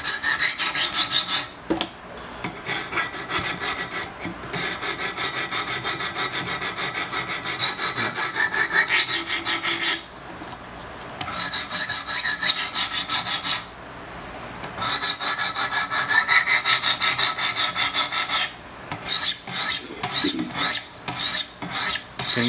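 A large Chris Reeve Sebenza 21 Insingo blade gets a micro bevel on a Wicked Edge guided sharpener, heard as close, loud rhythmic rasping strokes of the stones in repeated bursts separated by short pauses, with no voices.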